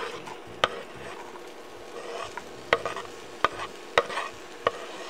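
Onion fries in olive oil in a wok, a soft steady sizzle punctuated by several sharp clacks of a utensil striking the pan.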